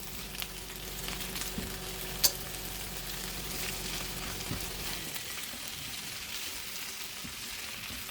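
Pork ribs frying together with cactus nopales, a constant close sizzle with a low hum that drops away after five seconds, leaving a lighter crackling hiss and a sharp tap.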